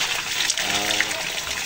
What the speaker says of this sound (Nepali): अहिले चाहिँ म यहाँ पानी थापिरहेको छु।